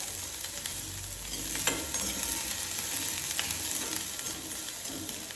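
Onion sautéing in a pan until brown for a Konkan banana flower vegetable, giving a continuous close sizzle with soft scraping from stirring and no voices.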